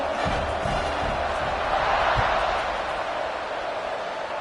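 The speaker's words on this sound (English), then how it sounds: "this crowd is buzzing after that last score" Stadium crowd at a college football game, Georgia at Indiana, buzzing in a steady loud roar after a score, with cheers and scattered shouts swelling around the middle, before the kickoff.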